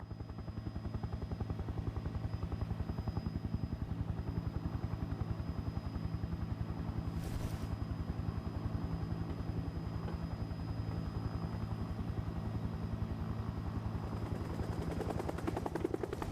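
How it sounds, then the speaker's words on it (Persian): A helicopter flies steadily overhead, its rotor chopping in a fast, even pulse under a constant engine whine, loud and sustained for the whole stretch without talking. "هلیکوپتر که نشست من پیاده میشم تو برمیگردی دمشق"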